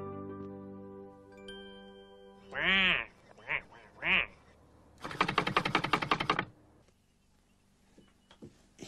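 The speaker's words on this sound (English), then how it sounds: "Lots of lovely ducks." Ducks quacking in a children's story scene, a few loud, close quacks in a short burst, followed by a steady rapid clatter like a typewriter, over soft background music.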